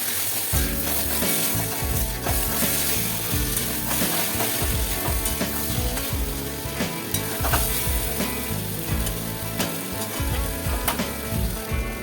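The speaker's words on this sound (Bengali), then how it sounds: "দেবো হলুদ গুঁড়ো এটা কাঁচা লঙ্কার ঝোল বলে আমি আর এর মধ্যে কোনো কাশ্মীরি লঙ্কা টঙ্কা কিছু দেবো না এই যে এবারে একটু ভালো করে কষাবো" Loud continuous sizzling and frying as spices with turmeric powder are stir-fried in a pan for a green chili curry, with scraping stirring strokes throughout and no voices.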